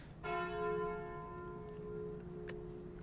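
A bell relic chime from the video game Slay the Spire rings out once, bright and clear, then its tone sustains and slowly fades over a few seconds with no talking.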